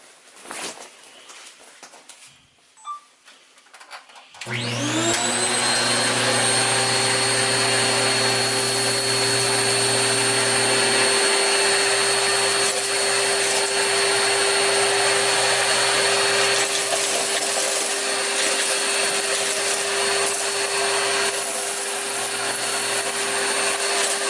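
Shark vacuum cleaner with a soft brush head, on its number 3 carpet setting, picking up breakfast cereal: after a few seconds of quiet shuffling the motor starts with a rising whine and then runs loud and steady.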